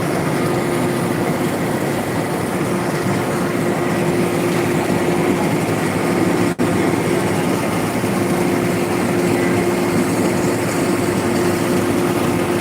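Steady, loud engine drone from a large three-deck ferry, with a strong constant hum and broadband rumble running unbroken throughout and no one talking.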